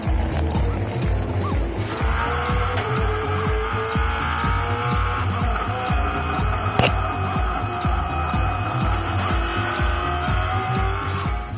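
V8 Supercars race in rFactor at Hidden Valley, a loud, steady engine drone with a low throbbing pulse and sustained tonal hum, one car close and continuous, a brief sharp transient midway.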